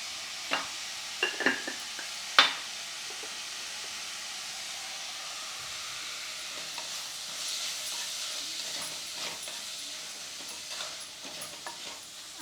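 Onions for a Bangude puli munchi mackerel dish fry in a pan with a soft, steady sizzle, a few sharp utensil clinks near the start and occasional stirring scrapes afterward.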